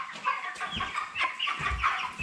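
Cobb 500 broiler chickens about thirty days old cluck repeatedly in a poultry house, a steady overlapping chorus of short calls at moderate volume.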